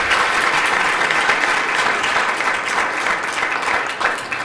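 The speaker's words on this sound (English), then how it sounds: "We'll give them a round of applause and say thank you to them." A conference audience applauds steadily and loudly throughout, a dense wash of clapping with no break.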